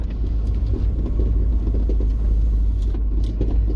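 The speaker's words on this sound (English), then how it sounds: "I don't know if you could hear my car, but it sounds like a power tool." A car drives up a rural road, its engine and tyre noise forming a loud, steady low rumble with a buzzing, tool-like quality, close and continuous with no talk.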